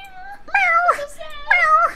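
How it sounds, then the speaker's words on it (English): Two drawn-out, tonal cartoon cat meows ring out clearly from the video game Melodicats, each about half a second long with a short pause between them. "Meow."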